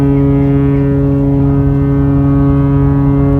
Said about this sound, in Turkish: Gemiler yine korna çalıyor